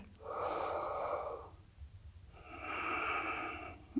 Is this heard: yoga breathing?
yes